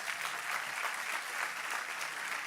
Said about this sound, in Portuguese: Vamos aplaudir Jesus pelo nosso criativo?